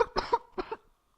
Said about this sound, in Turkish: Öksürebiliyorum yani her sıra.